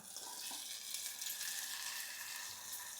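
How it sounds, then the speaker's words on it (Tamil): Ground tomato poured into sautéed onions and green chillies for an egg curry in a clay pot, giving a faint, steady hissing sizzle throughout. "இந்த தக்காளி அரைச்சி வச்சுருக்குறோம் பார்த்திங்களா அதை நம்ம இதில் ஊற்றிக்கலாம்"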